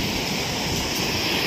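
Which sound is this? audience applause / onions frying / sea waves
sea waves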